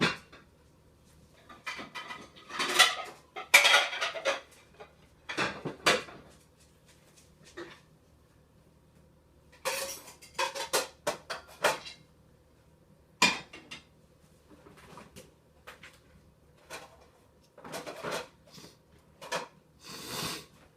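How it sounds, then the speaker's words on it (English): Dishes being picked up and stacked away in a kitchen, with a steady run of close clinks, knocks and clatters coming in bursts and brief pauses, and no talking. "So I stand over here and I just grab the dishes and put them away."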